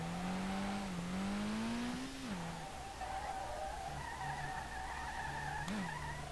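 A car drifts in the racing game SLRR: engine whine rising and falling, with tyres skidding and squealing underneath. The sound is continuous and fairly quiet, with no talking.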